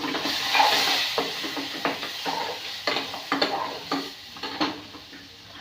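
Small spoon scraping and stirring pickle in a bowl, with a run of soft, irregular clinks and scrapes close by and no talk.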